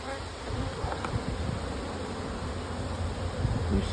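Honey bees drone in a continuous, dense buzz at an open hive, close and steady, with no voices.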